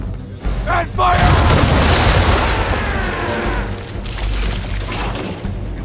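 A naval ship's cannons firing a broadside in Assassin's Creed III, a loud booming volley that bursts out and rolls into a long crackling, rumbling decay.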